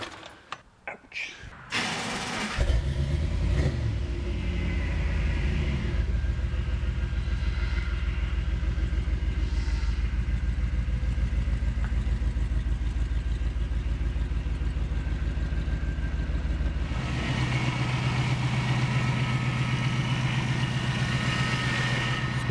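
A rebuilt 454 V8 in a 1991 Chevy 454 SS cranks with a few rough bursts, catches and settles into a loud, deep, even idle running on all eight cylinders, and the note shifts partway through, with no voices heard.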